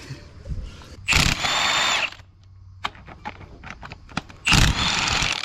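An impact wrench removes transmission bolts on a project car in two loud, close bursts of about a second each, with quieter clinks and handling noises of tools between them.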